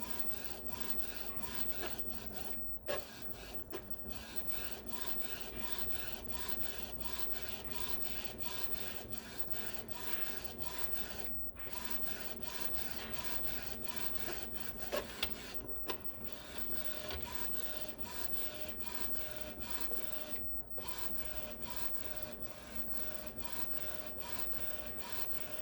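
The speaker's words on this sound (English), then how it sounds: "I guess it's just kind of printing a page here." An Epson ET-2803 inkjet printer prints a page with a steady mechanical whir and rasp from the carriage, broken by brief pauses and clicks, with no voices.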